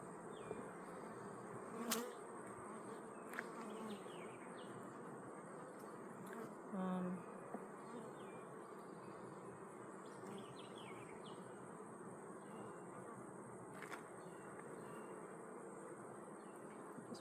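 Steady, close buzzing of many honeybees around an open hive fills the whole stretch, with a few soft knocks and light handling sounds of frames mixed in.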